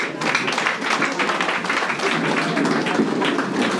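Dense, steady clapping from a worship congregation praising God, filling the whole stretch at an even, lively level, with voices faintly mixed in.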